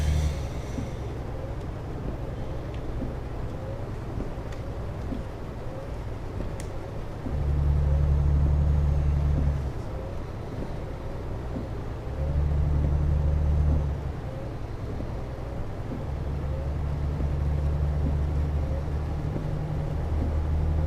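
Truck engine in Euro Truck Simulator 2 while driving through Hungary, a steady low diesel drone with road rumble that swells louder for a few seconds at a time, as if under throttle, with no talking.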